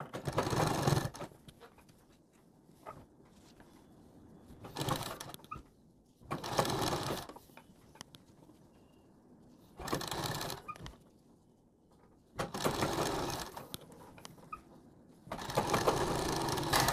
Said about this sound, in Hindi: इसको बिना कपड़ा खींचे आहिस्ता आहिस्ता सिलाई लगाना शुरू करेंगे